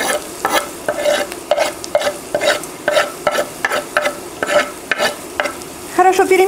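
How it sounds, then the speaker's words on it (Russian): Onion and carrot sizzle in a hot pan, with repeated rhythmic scraping strokes of a spoon stirring the vegetables, close and steady. "и мы кладем лук. Слегка его обжариваем."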